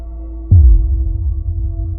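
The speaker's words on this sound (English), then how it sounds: "The only sound was his own racing heartbeat." A racing heartbeat sound effect sets in abruptly as a deep, low throb over a faint steady hum, one heavy pulse followed by a lingering rumble, with no voice.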